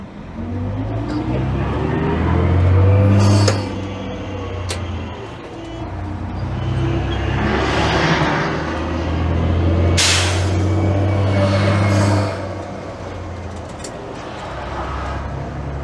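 A Leyland Super National bus with an air-controlled automatic gearbox drives along, its engine droning and swelling as it revs, drops and pulls again through gear changes, with road noise and rattles throughout.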